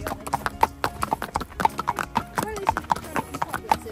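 Small ponies being ridden clip-clop along in a steady, close rhythm of hoofbeats, while people talk over the sound.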